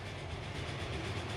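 A freight train hauling coal and iron ore runs in Transport Fever 2, a continuous, fairly quiet rolling rumble with a faint rhythmic clatter from the wagons.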